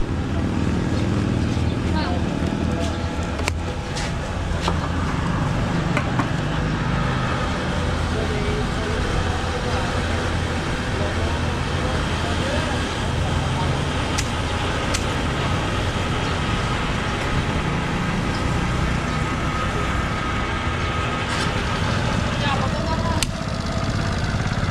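A 2000cc motor vehicle engine runs continuously at a gas stop, a steady low rumble close by throughout, with people talking intermittently over it.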